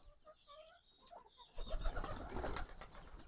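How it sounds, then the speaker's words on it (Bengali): Domestic pigeons kept alongside ducks and chickens coo close by, soft warbling calls at first, then a burst of fluttering and shuffling as the birds stir, fairly quiet overall. "আর এখানে আমার কবুতরগুলো আছে"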